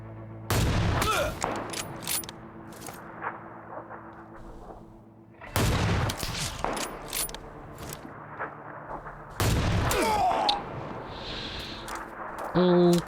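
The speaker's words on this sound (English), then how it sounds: "I need to practice more with my sniper rifle." Sniper rifle shots in the video game PUBG Lite, three loud, widely spaced single blasts, each with a ringing tail, with a voice talking in between.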